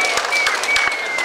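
Crowd at a climate change rally in London applauds and cheers, a dense continuous wash of clapping with sharp individual claps standing out, fairly loud and close, with no one speaking over it.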